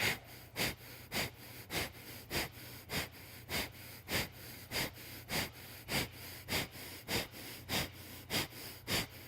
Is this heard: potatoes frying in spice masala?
no